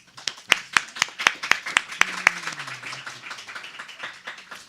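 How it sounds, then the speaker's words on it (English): Audience at a city council candidates forum claps after a closing statement, a dozen sharp, evenly spaced claps at first, then a lighter scattered patter, with a faint voice sliding underneath midway. "we accept applause for these statements"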